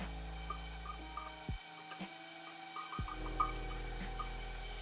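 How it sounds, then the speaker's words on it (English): An electric kitchen mixer mixing oatmeal raisin cookie dough whirs steadily, cuts out briefly, then starts up again, with faint clinks and scraping over the motor hum. "Sorry about my mixer, they can be loud."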